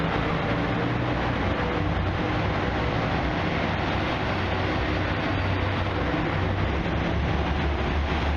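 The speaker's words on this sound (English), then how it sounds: "So this is the train I was on." Steady low rumble of a train standing at a station in Tottori, a continuous broadband hum and hiss with no clear events, moderately loud and unchanging throughout, no talk.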